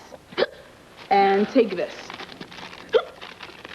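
A girl hiccups a few times, short sharp catches spaced through the moment, close by, while someone speaks briefly in between.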